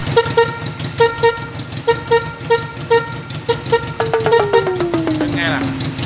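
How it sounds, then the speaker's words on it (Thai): A horn beeps in a quick repeated rhythm over an idling modified Honda Wave 100 motorcycle engine, then a revving whine rises and falls near the end. "ฟังเสียงแตรปะ"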